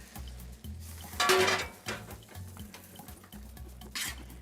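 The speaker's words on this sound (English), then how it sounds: "I'm gonna add the cooked mushrooms, all these cremini mushrooms with a little butter" Cooked cremini mushrooms with a little butter being stirred into a truffle cream sauce, soft wet squelching and scraping with a brief louder clink of utensil on pan, quiet and near.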